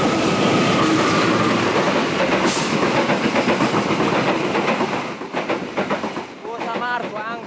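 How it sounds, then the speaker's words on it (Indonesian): The Argo Bromo Anggrek passenger train rushes past nearby, overtaking at Weleri station in Indonesia, with a steady rolling roar and rhythmic clatter of wheels, fading toward the end as a voice speaks. "Kita disalip, guys, sama kereta apa ini."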